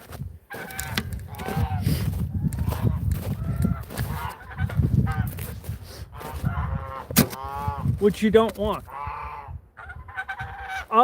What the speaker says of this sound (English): They are silly geese, you know, they have a lot of personality.